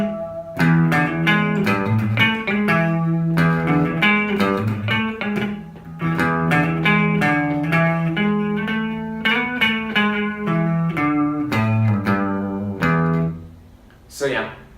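An electric guitar plays a riff clean through an amp, with ringing chords and single notes in a steady rhythm, loud and close, ending with a brief pause and a final strum.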